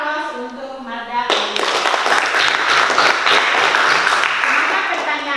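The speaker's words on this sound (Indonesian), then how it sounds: "kita berikan aplaus untuk Marda" Classroom applause for a student named Marda, a burst of many hands clapping that starts abruptly after a short stretch of voice and continues steadily and loudly to the end.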